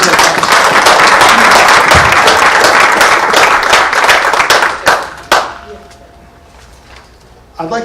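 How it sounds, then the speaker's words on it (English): An audience at an evening community debate on a Florida solar amendment breaks into loud, dense applause. It holds steady for about five seconds, then thins to scattered claps and a quiet room, with a short burst of sound near the end. "we all owe the three of you another round of applause for all the work you do"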